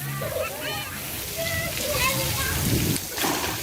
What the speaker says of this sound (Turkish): oradan su akıyor değil mi?